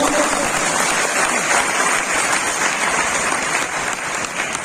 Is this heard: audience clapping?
yes